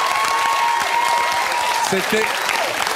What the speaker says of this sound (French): Alors vous pouvez l'applaudir